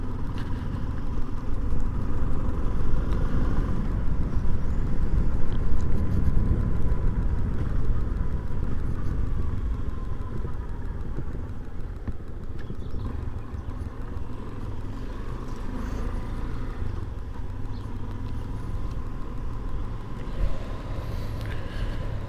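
Motorcycle engines rumble steadily during a group motorcycle ride, with a low idling and revving drone that carries on continuously, moderately close.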